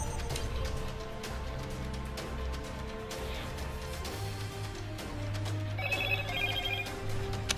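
Mobile phone ringing with a repeating electronic ringtone pattern over a steady game soundtrack, clearly audible at moderate level.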